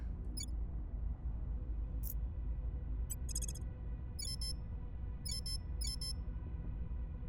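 Short high-pitched electronic beeps in the strategy game Terra Invicta sound in quick clusters of three to five pips, repeating irregularly over a steady low background hum.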